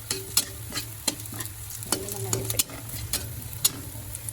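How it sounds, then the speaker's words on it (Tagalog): Garlic sizzles in a hot pan while a utensil stirs it, the scrapes and taps on the pan landing in an irregular rhythm over a steady frying hiss. "Haluin lang natin siya ng haluin."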